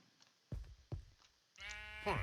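Sheep bleating in Minecraft, a drawn-out wavering bleat near the end after a couple of dull knocks, with someone talking over parts of it.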